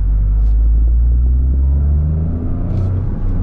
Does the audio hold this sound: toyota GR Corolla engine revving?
yes